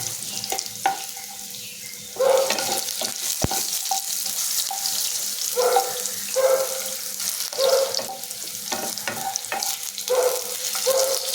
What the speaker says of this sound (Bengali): এবার আমি আলুটা দিয়ে আগে ভেজে নেব একটু আলুটা লাল করে ভাজবো